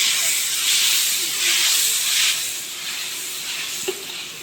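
Ginger garlic paste hits a hot pan over a high-flame stove and sizzles with a loud, steady hiss that swells and eases slightly, with one small pop near the end.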